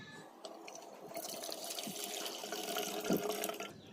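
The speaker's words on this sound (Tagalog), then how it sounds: "Lagyan natin ng tubig." Water poured into an electric kettle gives a steady, close splashing and trickling that swells over a few seconds, with a light knock near the end.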